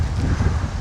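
Outdoor rain and gusting wind make a dense, steady rushing noise, mostly wind buffeting the microphone, with a faint low rumble of passing cars behind it.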